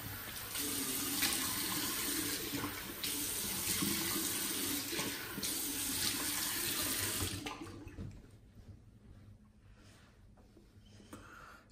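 Running tap water splashes steadily into a sink as a face is rinsed after a wet shave, a continuous near hiss that stops abruptly partway, leaving quiet room tone.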